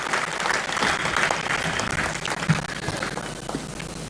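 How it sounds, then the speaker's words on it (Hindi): An audience at a public event applauds Narendra Modi, a sustained wash of clapping from a sizable crowd that swells then gradually thins over a few seconds. "एक बार जोरदार ताली बजाकर माननीय नरेंद्र भाई मोदी जी की प्रशंसा कीजिए"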